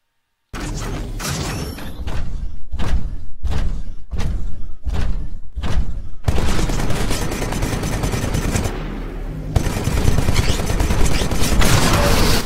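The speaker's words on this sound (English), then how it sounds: "This weapon absorbs incoming ballistics for a limited time," Heavy weapon fire from a Titan in the Titanfall video game, Vortex Shield refiring absorbed ballistics: a run of sharp, evenly spaced loud blasts, then a dense sustained roar of rapid fire and impacts, close and continuous.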